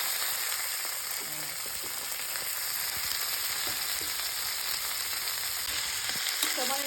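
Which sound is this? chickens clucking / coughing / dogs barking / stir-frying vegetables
stir-frying vegetables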